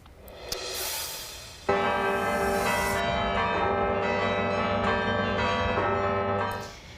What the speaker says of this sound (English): You can hear their bells ringing at cathedrals across the U.S.